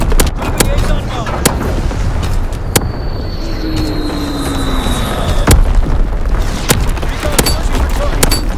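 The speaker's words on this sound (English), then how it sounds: "Firing division artillery." Artillery strikes in a Call of Duty game land as a rapid series of loud, sharp booms and blasts over a constant rumbling battlefield, with whining aircraft and game voices in between.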